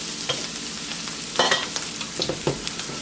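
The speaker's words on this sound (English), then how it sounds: "I think we're ready to add our rice to this mixture." Cooked long grain and wild rice stirred into sautéed sage, onion and mushrooms in a cast-iron skillet, a soft steady sizzle broken by a few scraping spoon strokes, close and quiet.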